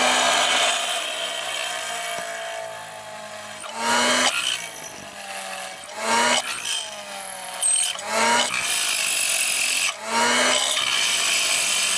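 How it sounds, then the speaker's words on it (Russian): A power drill whines loudly in several bursts while drilling through glass, each stopping briefly before starting again, with grinding contact noise as the bit bores through. "Переворачиваем и сверлим с обратной стороны."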